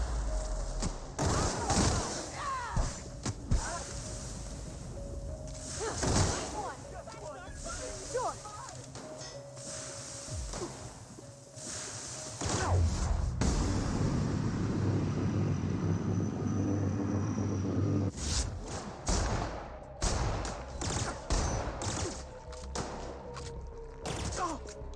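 Bursts of video game gunfire crack out in rapid volleys alongside heavy thuds and rumbling impacts, loud and close, with a player talking over parts of the action.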